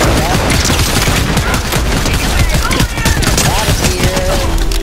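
Shotgun blasts from the Fortnite video game ring out over dense, continuous game action and gunfire, with a player talking over the noise.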